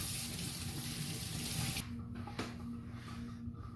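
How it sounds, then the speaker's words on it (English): Running water from a sink faucet rinses hands in a home kitchen while cooking a cast iron ribeye, a steady broadband splash that cuts off abruptly partway, leaving a quiet room hum. "let me go ahead and rinse my hands off real quick"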